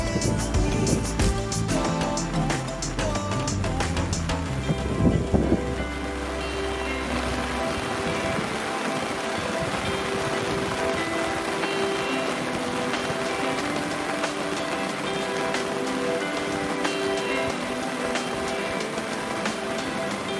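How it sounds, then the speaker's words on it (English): Rain falling steadily at a campsite during setup, a continuous even hiss of drops on surfaces, with a heavier low rumble early on that gives way to steady patter. "just before halfway through setup, we bring on the first bit of rain"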